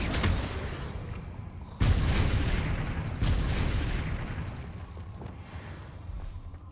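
Confringo blasting spell explosions in the Hogwarts Legacy video game: two heavy booms a little over a second apart, each with a long rumbling decay, over continuous low background rumble.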